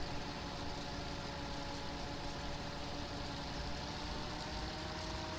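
Tractor engine in Farming Simulator 17 runs steadily, a continuous droning rumble with no change in pitch or loudness, heard alone without talk.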